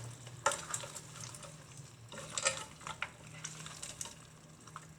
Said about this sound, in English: So we're just going to get this now, the oyster sauce, and just mix this all around